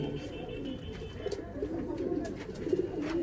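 Andhra high-flying pigeons coo in a loft, a soft, repeated low warbling from several birds close by, with faint voices in the background.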